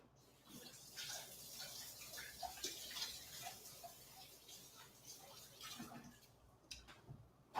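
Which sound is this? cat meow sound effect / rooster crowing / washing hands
washing hands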